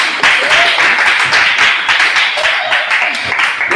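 A church congregation claps loudly and steadily in acclaim of Jesus during a teaching service in Bingerville, Côte d'Ivoire, with dense overlapping handclaps and voices mixed in.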